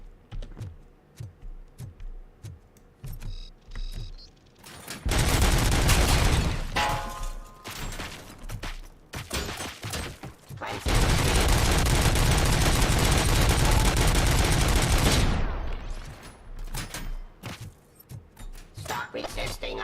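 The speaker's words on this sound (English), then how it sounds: "Heavy machine gun. You know what? I think we'll take the big gun." Heavy machine gun in the Robocop Rogue City game firing in two long, loud, rapid bursts, separated and surrounded by shorter clattering shots and clicks.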